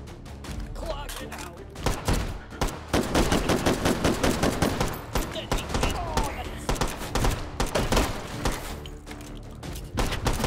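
Rapid gunfire from the VR shooter Hot Dogs, Horseshoes & Hand Grenades, with repeated loud bursts and single sharp shots crackling through the whole stretch and a voice talking among them.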